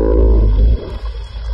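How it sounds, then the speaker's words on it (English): A deep, rumbling synth bass made from whale sounds drones loudly with a whale-like moaning quality, then drops off abruptly and returns as a quieter low throb. "the whale sound is so loud, it's giving you tinnitus right there"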